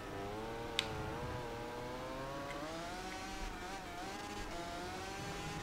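A Yamaha racing motorcycle engine in Valentino Rossi The Game, buzzing at high revs with a steady whine that rises and dips slightly, likened to a two-stroke, continuous and alone.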